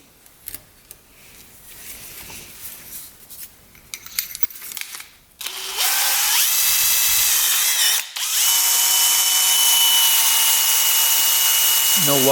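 A power drill runs loud and steady up close after a stretch of quieter clattering workshop handling, checking the intake of a rebuilt 450cc dirt bike; the whine cuts out briefly once and resumes.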